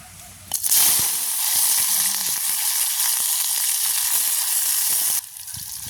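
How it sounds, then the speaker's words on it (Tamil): Fenugreek, mustard seeds, cumin, curry leaves and green chili sauté in hot oil in a pan, a loud steady sizzle that starts abruptly and holds with faint crackles, then drops back near the end. "வெந்தயம் கடுகு நஜ்ஜீரகம் கருவேப்பமில்லை பச்சை மிளகாய் எல்லாத்தையும் போட்டு வதக்குவோம்"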